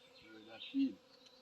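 Bees buzz around a blossoming tree in the Jamaican hills, a faint hum that swells into one brief louder drone near the middle of a very short moment.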